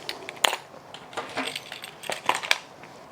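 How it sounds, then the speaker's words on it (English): Keys tossed into a durable leather accessory, a quick series of close metallic jingles and clinks, sharper bursts near the start and end, with no talking. "you just throw in your keys"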